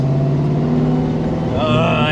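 A car with a 347 stroker engine and a recently fixed clutch pedal runs steadily while driving and shifts softly through the gears, the engine note changing near the end of the shift, loud and close inside the cabin.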